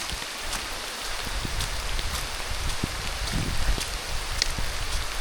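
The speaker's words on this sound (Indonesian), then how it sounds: "Hujan coy." Rain falling steadily on a mountain trail during an ultra trail race on Lawu, a dense continuous patter of drops close around, with occasional sharper individual hits and no talking.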